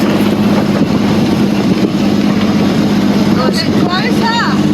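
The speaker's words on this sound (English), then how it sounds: "Big fish boat, we just go past." A steady low engine drone of a fishing boat motor passing at sea rumbles throughout with wind buffeting, and a few brief high chirps near the end.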